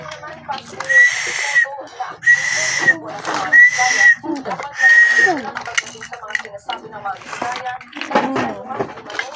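Four short, steady whistle tones sound at intervals, mixed with people talking and clattering in the background.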